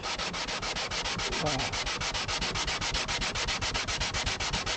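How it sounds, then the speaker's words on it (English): Sandpaper worked steadily over epoxy on an acoustic guitar, producing a loud, close, continuous back-and-forth rasp in a fast even rhythm. "watch somebody sit here and run sandpaper for this long"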